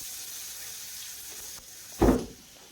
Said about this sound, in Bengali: তারপরে এখানে সেই আলুগুলো দিয়ে দিতে হবে।